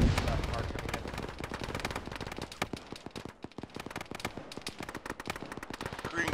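Rapid bursts of gunfire from an Arma ShackTac squad firefight crackle close and loud, with overlapping rifle and machine-gun shots, some sharp single cracks, and voices talking over the shooting.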